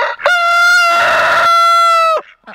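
A rooster crows loudly and close, one long drawn-out call with a sharp start and a trailing finish.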